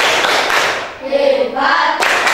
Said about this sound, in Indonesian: kasih tepuk hebat